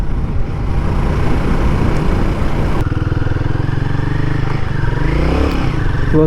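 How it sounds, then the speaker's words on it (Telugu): A Royal Enfield Guerrilla 450 motorcycle engine revs and accelerates in second gear, its pitch climbing steadily, loud and close throughout with a steady rumble underneath. "సెకండ్ గేర్లో చూడండి, సెకండ్ గేర్లో ఎంత లేస్తుందో"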